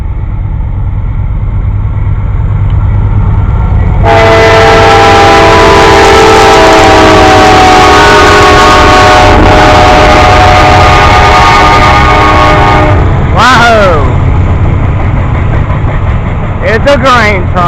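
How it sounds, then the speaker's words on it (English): A grain train rolls past close by with a steady heavy rumble, and a loud sustained horn blast sounds for several seconds, followed by a few shorter horn toots near the end. "here comes another train."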